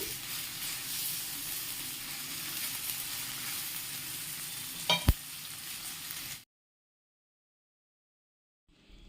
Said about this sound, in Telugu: కొద్దిగా ఆయిల్ అయితే వేసేసి మరి ఒకసారి ఈ విధంగా ఫ్రై చేసేసి మూత పెట్టేసి ఫ్రై చేసామంటే చాలా త్వరగా మగ్గిపోతాయి